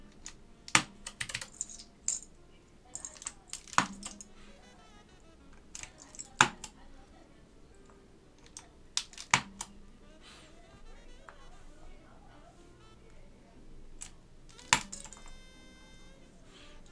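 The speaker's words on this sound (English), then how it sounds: "Just gonna start putting keycaps on, so yeah, this is gonna sound awesome." Keycaps being pressed onto Alps SKCM Amber switches of a Northgate Omnikey Ultra keyboard during restoration: scattered sharp plastic clicks and snaps, close and fairly loud, in uneven bursts with quiet gaps.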